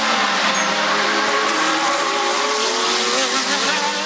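Formula 1 race cars are racing, with Capelli's March pressing Senna's McLaren. High-revving engines scream loudly and steadily, their pitch wavering as the cars pass close together.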